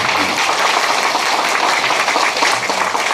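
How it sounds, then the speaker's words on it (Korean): Steady, dense applause from the gathered audience fills the room at a calligraphy exhibition opening ceremony, loud and continuous throughout with no pause. "마지막으로 초보 선생님께 큰 박수 부탁드립니다."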